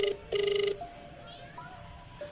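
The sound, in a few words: telephone ringing unanswered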